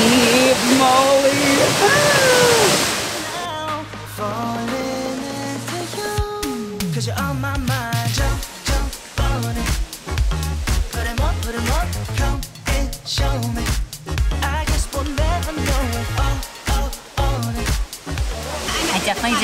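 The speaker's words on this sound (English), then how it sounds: "let's go see the waterfall" Indoor waterfall inside Singapore's airport: a loud, broad roaring rush dominates the opening seconds, then continues beneath music and people's voices that carry through the rest.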